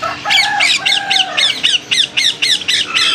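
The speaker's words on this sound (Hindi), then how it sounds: "आवाज़ तोतों जैसी।" At a bird market, a bird gives a loud parrot-like squawk followed by a quick series of harsh, evenly spaced squawks close to the listener, with no talking over it.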